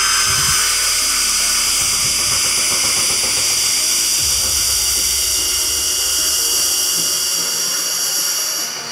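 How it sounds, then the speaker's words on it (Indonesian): An HL Premier 818 cordless brushless drill whirs at a loud, steady high pitch as it bores a second hole, running continuously up close with a slight wind-down at the end and no talking. "Oke, kita bor lagi ya."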